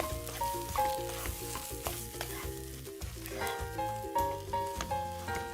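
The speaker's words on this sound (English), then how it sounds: "stir it really well and mash it with the masalas" Potatoes are stirred and mashed with spices in a pan over a medium flame, a steady sizzle of frying under rhythmic scraping and thudding strokes of a spatula, close and continuous.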